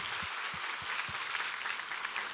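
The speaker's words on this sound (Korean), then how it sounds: "우리 하나님께 감사와 영광의 박수 올려드리겠습니다" A church congregation applauds after a scripture reading during a Korean worship service, a soft, distant spread of clapping with a few deeper thumps near the start, faint and without speech over it.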